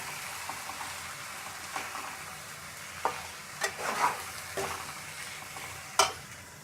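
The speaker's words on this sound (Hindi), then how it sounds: "1 टेबलस्पून लहसुन अदरक का पेस्ट है और 1 टेबलस्पून ही इसमें सब्ज़ मिर्च जाएगी" Garlic ginger paste and green chillies frying in a pan for daliya qeema, a steady close sizzle with a few louder stirring scrapes and clatters, no talk.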